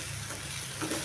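Okra sautéing in a pan, a steady soft sizzle and frying hiss throughout, close and even, with no talk.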